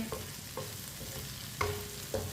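Okra and potatoes cooking for Aloo Bhindi in a pan on a low stove flame, giving a faint steady sizzle with a few soft stirring scrapes spaced through it.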